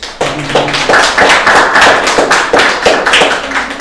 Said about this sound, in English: I would like to ask you for one more applause to all 3 speakers